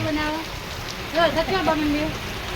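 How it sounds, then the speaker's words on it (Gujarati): Heavy rain falls in big drops, pattering steadily on a surface while a voice briefly speaks over it. "બહાર વરસાદ ચાલુ થઈ ગયો છે. બહુ મોટા ફોરે વરસાદ આવે છે."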